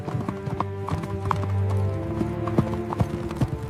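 Horse hooves galloping in a fast race along a path, a rapid, loud clip-clop rhythm close by, with a brief whinny and a little voice sound in the mix.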